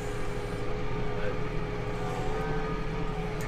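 A Massey Ferguson 4710 tractor hauling hay runs with a steady, even engine drone, close and continuous throughout.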